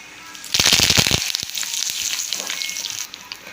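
Curry leaves hit hot sesame oil in a pan with a sharp, loud burst of crackling and spitting that eases into a steady, softer sizzle over a few seconds.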